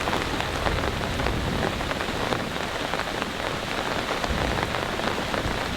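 Heavy rain pounds steadily on a tent through the night during a thunderstorm, a dense, constant close-up patter with no pauses.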